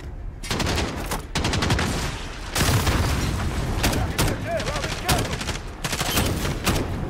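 Rapid bursts of automatic gunfire and heavy booms in Call of Duty: Modern Warfare (2019) on realistic difficulty, loud and close, coming in repeated volleys with short gaps, with a voice talking underneath.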